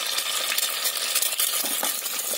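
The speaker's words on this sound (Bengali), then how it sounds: "এবার এতে দিয়ে দিচ্ছি এই দুটো ডিমকে আমি ফাটিয়ে এই ডিম দুটোকে ভুজিয়া করে নেব।" Two eggs cracked into hot oil and scrambled in a pan, a constant bright sizzle close by with light scraping and tapping from the spatula.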